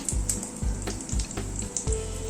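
Fish roe fritter batter, spread flat in a pan, fries with a steady close sizzle and a regular rhythm of soft low thumps from spreading or scraping with a spoon.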